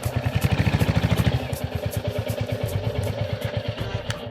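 A motorcycle engine putters close by with a rapid, rhythmic thumping beat, idling and revving slightly throughout.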